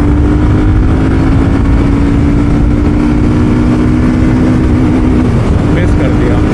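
BSA Gold Star 650 single-cylinder motorcycle on a test ride, its engine droning steadily close up with a sustained low hum that shifts pitch near the end as it downshifts, under constant wind rush and a rider talking.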